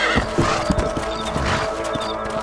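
Horses in the Red Dead Redemption video game, with a neigh and rhythmic clip-clopping hooves as they set off at a gallop, close and fairly loud with game ambience underneath.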